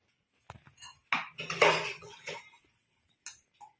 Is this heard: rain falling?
no